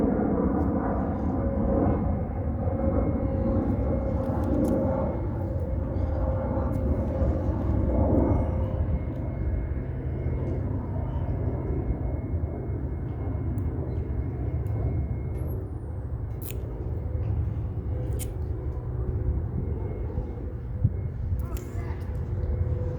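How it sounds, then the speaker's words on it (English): A fixed-wing aircraft flies overhead, a steady low broadband roar that holds throughout while people occasionally speak nearby. "Apologize for the aircraft."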